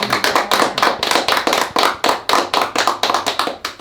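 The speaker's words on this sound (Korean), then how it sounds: "박수로 환영합니다" A small group gives a welcoming round of clapping, with sharp, close claps in a quick, fairly even rhythm that keeps going steadily.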